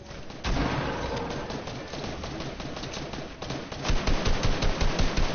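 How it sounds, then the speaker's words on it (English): Video game gunfire: a dense, steady volley of rapid shots continues throughout, loud and compressed, with a heavier burst near the end and no talking. "All the shots missed somehow."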